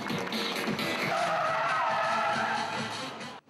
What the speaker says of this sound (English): British precision and stunt driver, the appropriately named Russ Swift, did his stuff